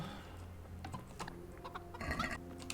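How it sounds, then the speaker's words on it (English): In the video game Kingdom Come: Deliverance, a chicken clucks in short, irregular bursts, fairly quiet and near, over ambient game sounds and faint mechanical clatter. "Oh, it's a chicken."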